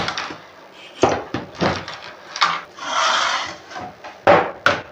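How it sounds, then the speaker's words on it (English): A small screwdriver turns an eye hook into a wooden board fitted with barbed wire, producing irregular creaking, rasping twists and scrapes with short pauses between turns, close and fairly loud. "little trick I use for hooks, eye hooks, stuff like that, to screw in. Start them off with a little screwdriver."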